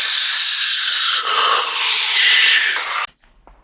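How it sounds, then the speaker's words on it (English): Compressed air is blown under a motorcycle handlebar grip, making a loud, steady, bright hiss for about three seconds before it cuts off abruptly, leaving faint handling noises. "a little bit of air underneath the grip is a great way to remove and or install a grip"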